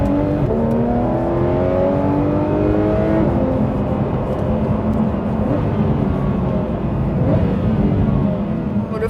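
A Porsche GT3 RS engine revs hard and continuously, its loud mechanical howl rising and falling in pitch while the car is driven. The sound is close and steady, with no talking.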